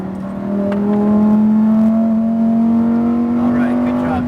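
A Lamborghini Huracan STO accelerates on the Las Vegas speedway, its engine note climbing in a loud, sustained, rising drone from inside the car, with no talk over it.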